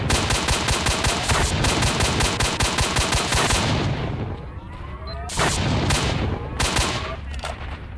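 Long-range weapon gunfire in the S.T.A.L.K.E.R. video game near Hotel Polissya, loud rapid automatic bursts close by, then a short pause and further sharp shots echoing.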